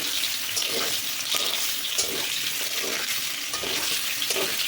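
Frying potatoes are turned over in hot oil, a continuous close sizzle broken by repeated scraping stirs every half second or so, with no talk.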